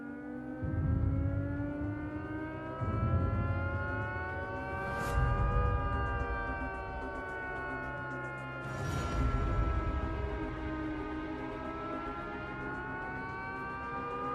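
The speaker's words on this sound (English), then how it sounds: "the Navy tests the siren it would use in the event of a nuclear emergency" A long, wailing nuclear emergency warning siren under test at Devonport naval dockyard, Plymouth, rises and falls in pitch, sustained and loud, its tone sweeping up twice across the stretch.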